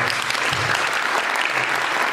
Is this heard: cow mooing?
no